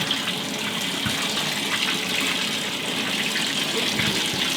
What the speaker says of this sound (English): Add some more water to make it deeper